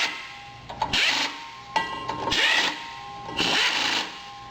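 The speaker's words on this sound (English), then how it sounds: "When installing the drive shaft, you want to make sure all the bolts are nice and tight." A power tool tightens the drive-shaft bolts during a 700R4 transmission install, with three close, loud bursts of whirring and grinding separated by short pauses.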